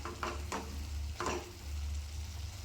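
A spoon stirs soya chunk (meal maker) gravy in a pan with a few brief, soft scraping strokes spread over a steady low hum, fairly quiet and with no talking.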